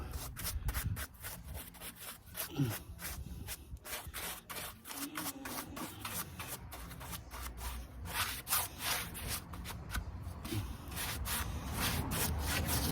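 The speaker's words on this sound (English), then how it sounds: "we literally just brush it on" Brush strokes apply Jenolite rust converter to the rusty metal of a Mercedes ML55 AMG, a steady run of close, repeated scratchy swishes that keeps going at an even pace without a break.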